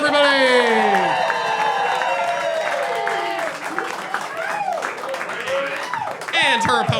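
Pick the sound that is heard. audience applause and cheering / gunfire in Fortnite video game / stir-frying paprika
audience applause and cheering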